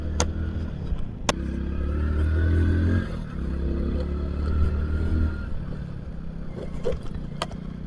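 A motorcycle rides along a road with a steady low engine drone and constant wind rush, plus a couple of sharp clicks near the start and end.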